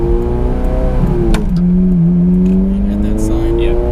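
A Ferrari F430 Scuderia with a 6-speed manual accelerates hard, its engine note rising and climbing loud and close from inside the cabin, with a brief gear change partway through.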